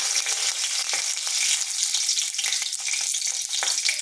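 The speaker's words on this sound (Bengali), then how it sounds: "ওই তেলের মধ্যে দিয়ে দিচ্ছি 5 ফোড়ন আর একটি শুকনো লঙ্কা" Panch phoron and a dried red chilli crackle in hot oil, a steady loud bright sizzle that carries on without a break and has small pops scattered through it.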